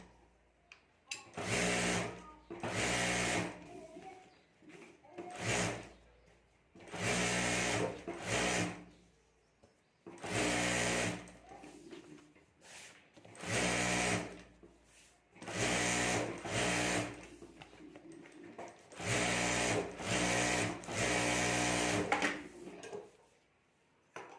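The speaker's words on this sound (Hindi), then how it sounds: "पहले हमें सिर्फ रबर शीट ही रखनी है, उसके ऊपर फैब्रिक रखकर हमें सिलाई करनी है।" A sewing machine stitching fabric laid over a rubber sheet for a homemade sling bag runs in bursts of steady whirring, several stitching runs separated by short pauses, close and clear with no talk.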